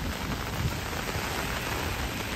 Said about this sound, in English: It's a good rain.